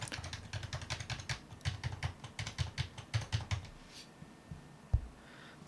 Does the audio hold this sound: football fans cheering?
no